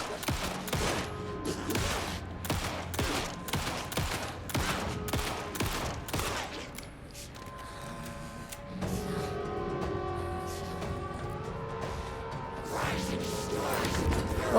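Gunfire and a grenade in the video game Alan Wake 2, with rapid bursts of shots and sharp impacts early, then quieter mechanical and musical game sounds, with a voice at times.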